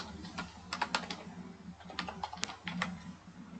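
A word typed into an Excel spreadsheet on a computer keyboard, a short irregular burst of close, soft key clicks alone without talk.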